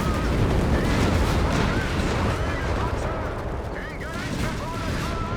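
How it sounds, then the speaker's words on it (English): Grant tanks firing at a Panther in the Company of Heroes 3 video game, dense loud rumbling cannon and gunfire mixed with a commentator talking over it throughout. "Grants just keep firing away, and the sheer number of guns just mean they're going to do some damage to the Panther no matter what."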